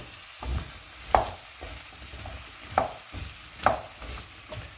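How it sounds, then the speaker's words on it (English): A spoon stirs pumpkin cooking in a pot, producing soft scraping strokes and faint clinks roughly every second or so against a low sizzling background, with no voices. "I'll give it a stir."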